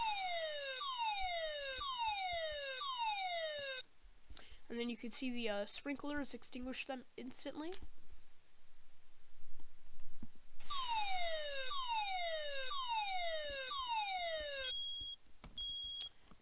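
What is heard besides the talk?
siren of a fire alarm system in a video game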